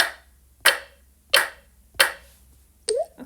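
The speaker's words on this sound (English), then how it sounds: "And now I'm going to clap it back." Hands clap a rhythm back during a pulse-tapping ear-training exercise: four sharp, close claps, the first three evenly spaced and the last slightly later, each standing alone in near silence.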